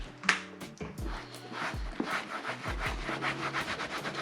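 A cloth rubs cleaner into motorcycle leathers, close, repeated scrubbing strokes in an uneven rhythm, with a few soft knocks between them.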